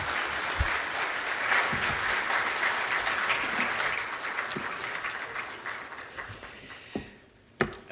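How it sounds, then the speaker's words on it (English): Audience at the swearing-in ceremony of a Chief Justice in Ghana giving the President a round of applause, dense sustained clapping that gradually fades, with a few sharp knocks near the end. "I believe we can do another big round of applause for His Excellency the President"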